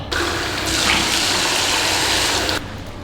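Tap water gushing steadily into a basin while a face is washed, close and loud, then cutting off abruptly near the end, leaving quiet room tone.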